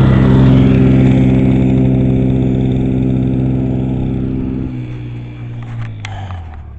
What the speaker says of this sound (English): can I drive the four-wheeler?